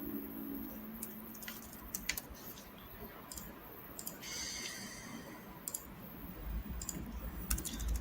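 Computer keyboard typing while a website and subdomain are set up, light irregular clicks and key taps scattered over a steady background hiss, fairly faint and close, with no talking.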